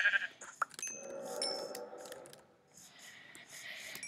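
Sheep bleating in the Minecraft video game, a few short game-animal cries mixed with other game sound effects at moderate loudness.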